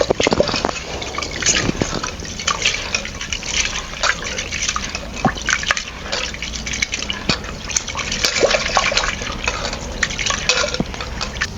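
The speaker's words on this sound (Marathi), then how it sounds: "पाणी घालून आपण चांगलं असं आपण स्वच्छ धुवून घेऊया" Water sloshes and splashes as lentils are swirled and rubbed by hand in a vessel, with irregular clinks and drips over several seconds.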